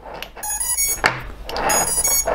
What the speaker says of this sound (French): Alors on a le bruit du buzzer, donc on peut entendre qu'il marche.